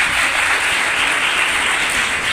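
An audience at a beauty parlour camp event applauds in a steady, fairly loud, continuous wash of clapping that holds evenly without pause for a couple of seconds.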